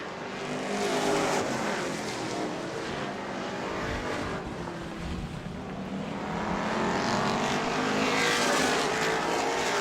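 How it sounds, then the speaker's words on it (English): Race cars at a weekly oval-track event at Auburndale, several engines roaring together as they pass, loud and sustained with swelling and fading passes and no speech. "Race leaders clear the lap car of Darling as we're side by side for the 4th spot"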